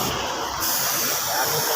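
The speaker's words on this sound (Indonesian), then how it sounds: "kita semproti clear biar bagus" Steady hiss of a spray gun laying clear coat onto motorcycle body panels, continuous and close, with no talking over it.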